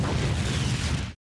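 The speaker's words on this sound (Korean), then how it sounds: "그렇게 예고한 폭파 시간과 함께 관람차는 폭발해버립니다" A bomb explodes on a Ferris wheel in a Detective Conan anime scene, one loud, dense blast with rumbling debris that roars for about a second and then cuts off abruptly into silence.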